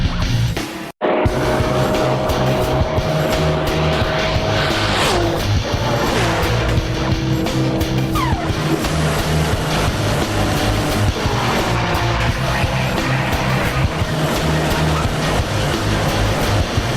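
A Shelby Supercars supercar roars at record top speed along a long stretch of highway in Washington State, a loud, steady engine and wind roar with whining tones and a brief dropout near the start.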